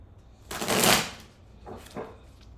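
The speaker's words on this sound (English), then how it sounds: "Two more shuffles." Tarot cards being riffle-shuffled by hand: one long crisp burst of flicking cards followed by two shorter, quieter bursts, close up, with no talking.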